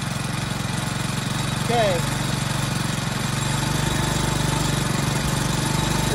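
A cheap outboard motor bought on Amazon fires on the first pull and runs at a steady rattling idle, loud and close throughout, with someone talking briefly over it.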